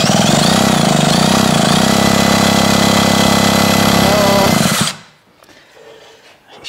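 Puch Maxi S moped engine turned over hard at full throttle while ignition coil trouble is being traced. It makes a loud, steady mechanical whirr close by for about five seconds, then cuts off into quiet, with voices in the background.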